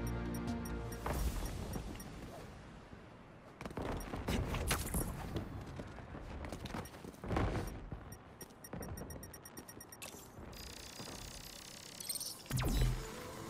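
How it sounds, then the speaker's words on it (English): Fireworks going off in the Marvel's Spider-Man 2 video game, a loud run of sharp cracks and bangs in irregular bursts that repeats through the scene, with rapid crackling volleys and heavier booms standing out. "fireworks"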